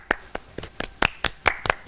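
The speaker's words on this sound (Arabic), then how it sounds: "تصفيق" Several separate hand claps ring out at an uneven pace during a lively Arabic-language TV talk show segment, each one short and sharp, with no voices over them.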